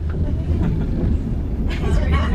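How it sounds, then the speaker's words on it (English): A long passenger train of fifteen cars rolls along the track with a steady low rumble and rattle, with voices speaking over it. "This train's got 15 cars on it"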